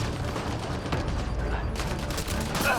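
Rapid sniper and automatic gunfire crackles through a firefight in the video game Mass Effect Andromeda, loud, dense, and continuous across the whole stretch with no pauses.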